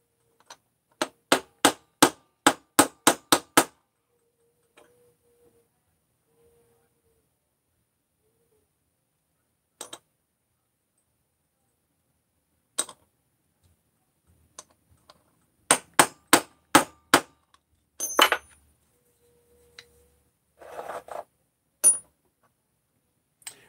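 Metal part being driven into a motorcycle crankcase during assembly: a rapid run of about eight sharp hammer blows, then scattered single taps, another quick burst of blows and a few clanks, close and distinct against silence.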